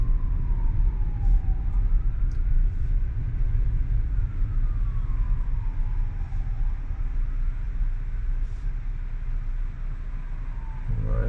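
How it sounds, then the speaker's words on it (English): Wailing emergency vehicle siren rising and falling as it passes on a snowy road, heard faintly from inside a car over a steady low cabin and road rumble. "it seems to be another emergency vehicle"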